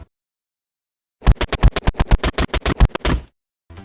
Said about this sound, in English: When I do a really fast combo with the baseball bat, the sounds interrupt each other and it just sounds wrong.